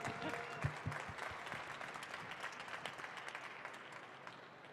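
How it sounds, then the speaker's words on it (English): Audience applause at the NADA Show 2024 live stage, a dense steady patter of many hands clapping through the whole stretch, with scattered louder claps near the front and faint voices mixed in. "Raise a round of applause here"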